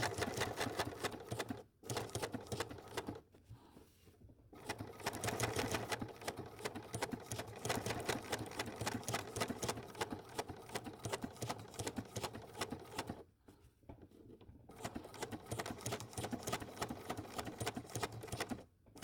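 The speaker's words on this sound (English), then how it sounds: "It takes a couple of regular stitches and then stitches a diamond to one side and then goes back down the main stitch line." A sewing machine runs steadily in fast rhythmic bursts, stitching a decorative diamond pattern on wool applique, with two brief pauses where the needle stops before resuming at close range.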